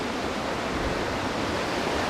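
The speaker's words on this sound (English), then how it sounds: "Hopefully you can hear the power of this lake down here." Waves on Lake Superior pound a beach on a stormy, dark-clouded day, a steady, dense roar of surf up close that fills the clip without break and drowns out everything else.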